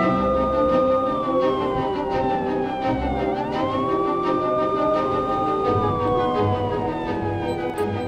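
A wailing ambulance siren in an animated cartoon rises and falls steadily throughout, loud and continuous, with traffic rumble underneath and no talking.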